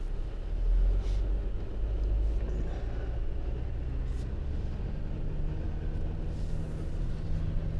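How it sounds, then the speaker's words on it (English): A 2019 Mercedes-Benz Sprinter 2500 high-roof van drives along, heard from inside the cabin as a steady low road rumble and engine drone that holds even throughout. "So Jeff, now we're gonna go for a spin here in the new van."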